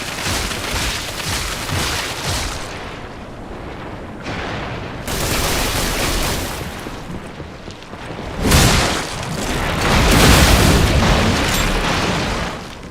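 Cluster bombs going off in the video game Lies of P: a string of heavy booming blasts in separate bursts, loud and close, swelling into a larger rumbling eruption toward the end.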